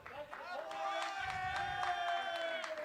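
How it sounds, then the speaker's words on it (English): Applause and light cheering from a crowd at a youth baseball double-header between two club teams, spreading steadily over the whole stretch with a voice talking over it. "And we hear the crowd having a bit of an applause there."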